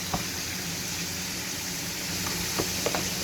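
Waffle batter sizzling in a waffle maker as the lid closes, a steady hissing fry with a few soft clicks and clatters toward the end.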